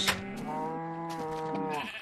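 Sheep bleating on a Minecraft farm: a clear, wavering game bleat holds steady for most of two seconds at moderate loudness, heard alone without talk.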